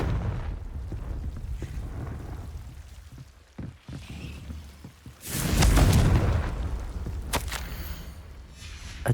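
A Confringo spell explosion in Hogwarts Legacy bursts with a loud, deep boom that swells and rumbles for a couple of seconds, set amid low ambient rumble and a few scattered thuds.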